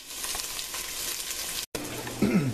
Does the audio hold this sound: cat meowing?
no